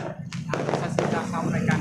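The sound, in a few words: firecrackers and fireworks over Palembang on New Year's Eve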